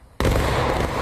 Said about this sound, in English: we return your one shot with a volley